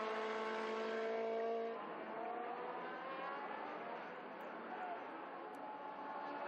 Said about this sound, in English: Pretty Porsche 911. Being caught by one of the Chevron B8s.